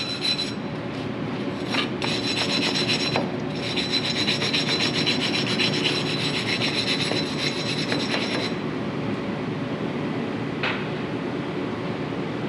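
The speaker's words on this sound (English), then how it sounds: "I've got a wire brush, and I'm just going to come around the outside and in between" A wire brush scrubs brake parts on a 2010 Toyota Tundra front brake, a continuous close rasping scrape in rhythmic strokes that runs nearly the whole time, with brief pauses and knocks.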